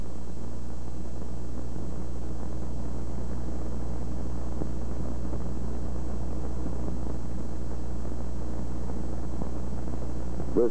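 A propeller airplane drones steadily in flight during a takeoff and departure stall, an even, continuous engine hum with no clear changes, heard from inside or close by, with no voices.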